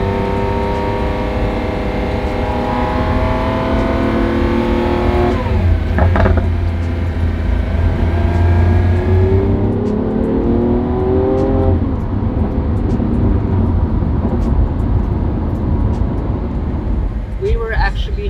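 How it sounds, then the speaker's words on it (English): A Lamborghini SVJ V12 engine roars and revs continuously, its pitch rising and falling through gear changes, loud and close throughout. "let us listen to the beautiful symphony of the Lamborghini SVJ V12"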